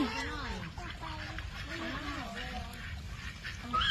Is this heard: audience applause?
no